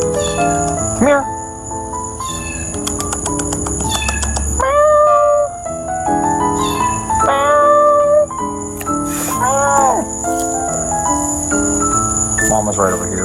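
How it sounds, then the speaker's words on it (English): A kitten stuck in a storm drain in Tallahassee, Florida, gives repeated high, plaintive meows over steady outdoor insect and cricket noise, with occasional chirps. "a reference to a cat stuck in a drain"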